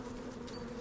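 Honeybees in a hive hum in a dense, steady buzz that fills the short moment evenly, close and continuous, with no voices over it.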